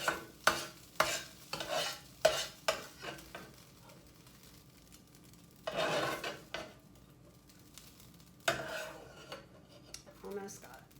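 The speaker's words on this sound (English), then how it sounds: "So I'm just scooping this all out on a plate." Fried rice being scooped from a skillet onto a plate, heard as repeated scraping and clinking of a utensil against the pan, with a faint sizzle underneath and short pauses between strokes.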